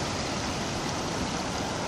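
Small stream near the Rivière des Galets mouth on Réunion flows with a constant soft rushing and burbling, even and uninterrupted.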